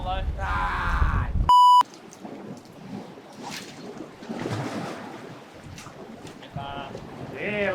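Wind buffets a microphone in rough gusts on a New Zealand shore while land-based fishing, with a brief electronic beep early on and a voice or boat sounds faintly mixed in.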